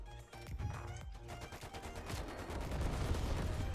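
Man O War rifle bursts in Call of Duty Cold War, dense continuous gunfire crackling close and loud throughout, building steadily with layered shots and no talk over it.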